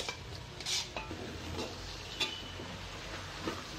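Tomato pieces stirred into a broad bean curry in a pan bring soft, intermittent clinks and scrapes of a spoon against metal over a faint background hiss, quiet and without speech.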